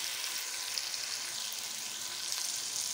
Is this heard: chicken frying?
yes